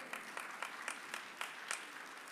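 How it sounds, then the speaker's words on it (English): Faint, distant audience clapping at a lecture on the crisis in the Church, heard as a short series of evenly spaced claps over a quiet room. "Yeah, you clap"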